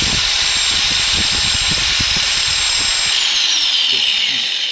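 An angle grinder running from a single solar panel, heard as a loud, close, high whining motor tone that holds steady and then shifts pitch near the end, with rough rumbling bursts underneath.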